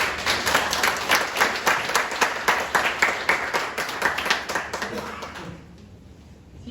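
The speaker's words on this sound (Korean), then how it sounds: "큰 박수 부탁드립니다" An audience at a local urban development project meeting gives sustained, even clapping that is fairly close and loud, then fades out over about a second and leaves a quiet room.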